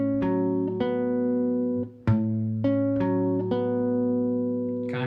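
Acoustic guitar fingerpicked through measures of a song: clean, ringing plucked notes over a steady bass, with rhythmic attacks and sustained chords, played alone and up close.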